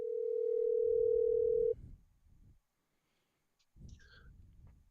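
A telephone dial tone hums steadily for nearly two seconds while a guest is being called on a talk show. It cuts off abruptly, followed by faint breathy rustling and a short electronic blip.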